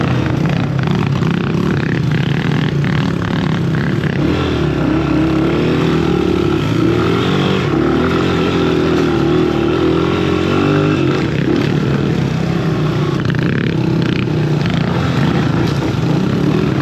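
A three-wheeler ATV engine is held at full throttle in a loud, continuous, rough, buzzing roar that wavers slightly in pitch over about seventeen seconds, with no speech.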